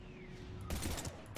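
Weapon fire in the Mass Effect 3 video game, a quiet lead-in followed by a loud burst of rapid shots that trails off, with no talking.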